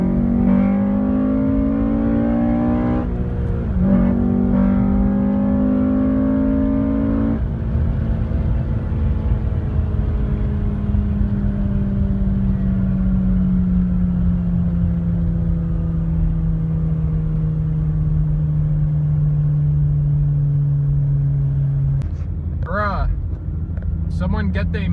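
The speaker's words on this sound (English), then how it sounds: "we're gonna do a little third gear pull on this straightaway coming up" Loud exhaust drone from a Honda Civic FA5 with a straight-pipe exhaust and muffler delete during a third gear pull on a straightaway, a steady rumbling pitch that climbs and then sags, heard from inside the car.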